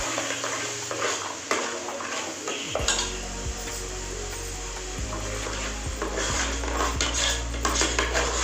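Chili powder, turmeric and asafoetida sautéing in a pan for a crab curry, a steady loud sizzle throughout with several sharp spoon knocks and scrapes against the metal pan, close up.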